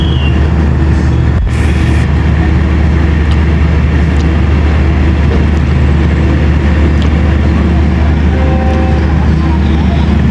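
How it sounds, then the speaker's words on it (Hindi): Steady low rumble of the 38 Down Baba Fareed Express pulling out of Kasur Junction, loud and continuous throughout with a faint brief whistle-like tone and no clear speech. "12:25 पे डिपार्ट कर रही है 38 डाउन बाबा फरीद एक्सप्रेस"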